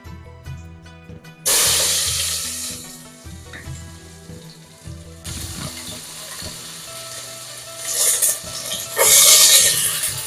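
Ingredients fry in a pan with bursts of loud sizzling that come and go. Tonal, gear-like mechanical whirring runs underneath the crackle, and the frying swells again toward the end.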